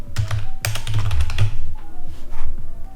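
Fast typing on a computer keyboard, a steady burst of close, loud key clicks lasting a few seconds with no one speaking.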